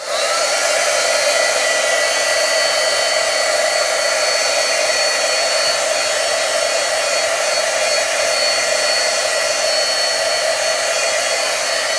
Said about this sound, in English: So I'm going to bring in my heat tool, and we're just going to take a minute and we're going to dry this off.